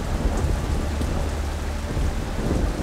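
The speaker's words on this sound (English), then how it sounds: "Strong winds and heavy rain thrash the city in the warm tropical air." Heavy tropical monsoon rain pours down steadily over a city in Singapore, with low rumbling thunder rolling underneath the dense, continuous hiss of the downpour.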